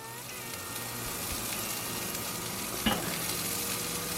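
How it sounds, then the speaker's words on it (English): A smashburger patty sizzles on a hot cooking surface, a constant close crackling fry with one brief louder pop or scrape near the end, no one speaking. "Let's let that cook a little bit more, get a nice crust on it"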